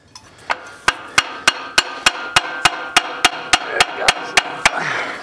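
Hammer blows strike the crankshaft of a long-buried 1965 Ford F100 engine being worked loose, about fifteen sharp, evenly spaced metallic hits, close and loud, in a steady rhythm.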